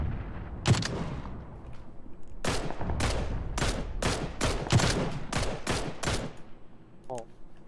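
Rapid bursts of automatic gunfire from a battle in the video game PUBG, with around ten sharp shots cracking in quick, uneven succession, loud and close, while a voice speaks briefly at one point.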